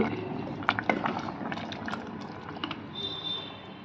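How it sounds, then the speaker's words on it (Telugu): Amaranth stalk and white pea curry simmering in a pan, soft bubbling and popping with irregular small bursts, close and fairly quiet, alone without talk. "ఇది వేసుకొని కొంచెం సిమ్లో పెట్టుకొని ఒక ఫైవ్ మినిట్స్ చక్కగా కలుపుకొని ఉడికితే"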